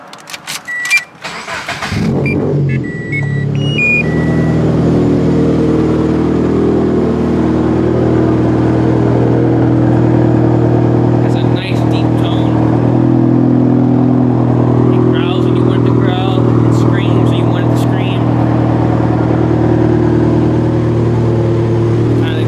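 A turbocharged Toyota FRS with 350 horsepower cranks and fires up, then settles into a loud, steady, rumbling idle with exhaust drone close by, broken by a few light clicks and blips.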